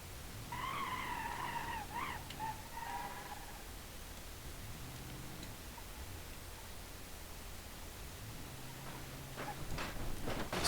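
A 1989 Chevrolet Caprice Wagon Woody with a burst tyre skidding in BeamNG.drive, a faint, hissing scrape of rubber under steady road noise, with a brief tonal squeal early on and sharper scuffs building toward the end.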